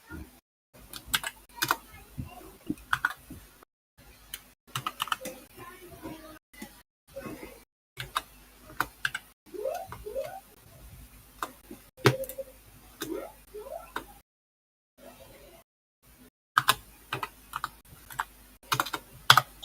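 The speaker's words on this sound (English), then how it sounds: "Someone is hot mic and we can hear your keyboard." A computer keyboard clatters over an open mic in a live Discord voice chat, in irregular bursts of quick, soft keystrokes with short pauses between them. The sound runs throughout and stays faint and close.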